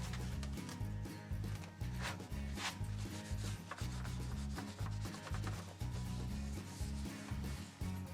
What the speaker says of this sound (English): I'm going to clean it off first and degrease it. I'm just using carburetor cleaner.